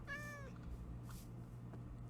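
A cat in the Minecraft video game gives a single clear, close meow at the start, followed by quiet in-game ambience with a low steady hum beneath.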